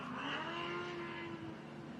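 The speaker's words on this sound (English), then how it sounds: "There you go, the four-wheel drive buggy." Four-wheel drive race buggy engine at a desert race, a steady high-pitched drone holding fairly constant pitch, heard at some distance without talk.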